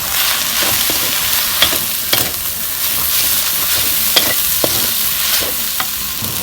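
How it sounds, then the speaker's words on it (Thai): Chiang da greens are stir-fried with egg and oyster sauce in a hot pan: a constant dense sizzle broken by sharp, irregular scrapes and taps of a spatula. "แล้วก็ตามด้วยน้ำมันหอยนะเจ้า คนให้เข้ากัน"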